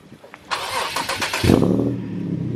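A 2009 Acura TL cranks with a short starter whir, then catches and fires into a loud, steady idle close to the listener, with no talking over it.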